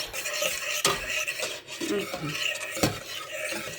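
Egg cream being stirred quickly in a pot for a cake, a steady scraping clatter of a utensil against the pot with a few sharper knocks, close and moderately loud, with no talk.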